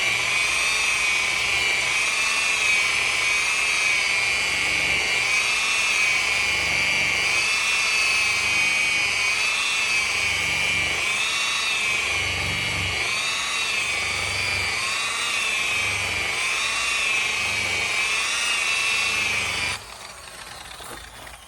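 A power polisher buffs rubbing compound on the paint of a 1986 Chevrolet Monte Carlo SS, giving a steady, wavering high whine for about twenty seconds before it suddenly drops away.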